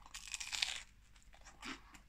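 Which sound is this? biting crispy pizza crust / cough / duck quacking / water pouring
biting crispy pizza crust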